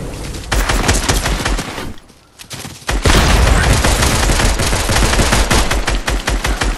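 Loud, close rapid gunfire in Fortnite comes as dense bursts of shots. A brief quieter gap falls in the middle, then the heavy firing resumes and continues to the end.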